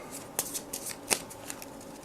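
Cards for the Gears of War board game being shuffled by hand, a quick run of soft riffling flicks with two sharper snaps, close and quiet.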